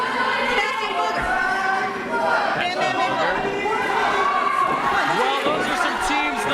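A wrestling show crowd keeps up a continuous, loud wash of chatter, shouts and cheering, with individual voices rising and falling throughout the whole stretch.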